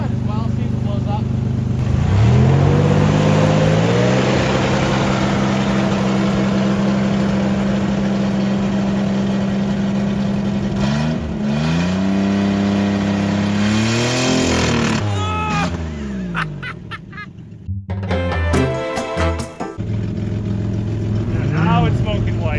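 A misfiring Toyota pickup engine idles loudly, then gets revved in long rising pulls toward the rev limiter and drops back several times, with people talking nearby.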